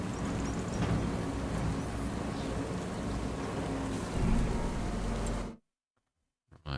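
Steady broadband rain in Farming Simulator 25, a dense continuous hiss lasting several seconds before cutting off abruptly into silence, with no talking.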